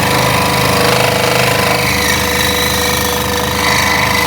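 A scroll saw cuts a Halloween workpiece with a loud, steady rapid buzzing chatter from the reciprocating blade, close by and continuous, with no talking.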